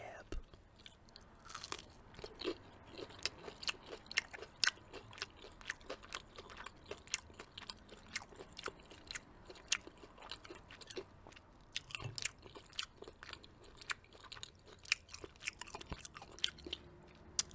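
Crunchy Popeye's chicken tenders being bitten and chewed close to the mic, a long run of sharp crisp crunches and wet chewing at an irregular rhythm over a quiet background.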